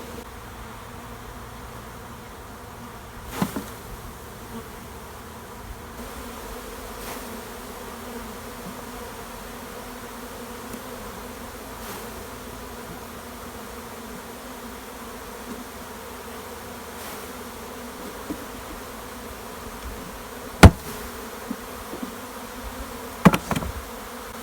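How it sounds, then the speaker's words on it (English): Steady, dense buzzing of many honeybees close by as they are shaken off hive frames, punctuated by a few sharp knocks and thumps toward the end. "Okay, now we can start shaking bees"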